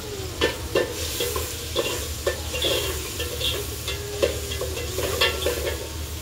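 Onions, bay leaves and ginger-garlic paste sizzling in a pot over a village wood fire, with a steady fry hiss broken by repeated scraping stirs of a spoon and low crackle throughout.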